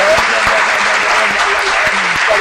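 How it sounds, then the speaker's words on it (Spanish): Audience applause at a Spanish-language show event, steady dense clapping throughout with crowd noise and voices mixed in. "Siguen los aplausos aquí."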